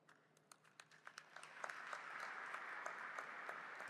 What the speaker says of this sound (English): At least they're clapping now